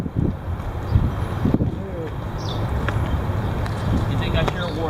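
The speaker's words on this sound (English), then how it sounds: "Wind's picking up." Heavy outdoor wind rushes and buffets the microphone in a steady, loud roar with low gusty rumble throughout, while people talk faintly underneath.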